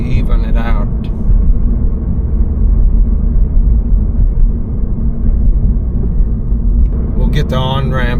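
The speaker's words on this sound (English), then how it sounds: "the little bit of engine noise you do hear now is natural" Steady, loud engine and road rumble from inside a moving Toyota GR86, a constant low drone with brief voices at the start and end.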